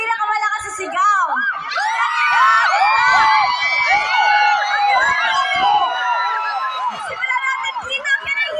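A crowd at a Barrio Fiesta in Birmingham, UK, shouts and cheers loudly in a contest, with overlapping excited voices, whoops and high screams rising and falling in waves, close and dense throughout.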